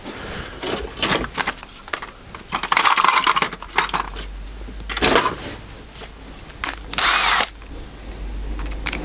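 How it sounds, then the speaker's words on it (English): Bursts of a power drill countersinking screw holes in wood for a router fence, several short whirring runs with pauses and small clatters between, close and loud, no talk. "I'm just going to countersink those"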